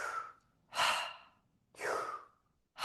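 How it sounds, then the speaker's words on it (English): Fire breath in a guided breathing class, lying down or sitting up: forceful, airy breaths in and out through the mouth in a steady rhythm of about one per second, close and clear with no talking. "so it's breathing in through the mouth"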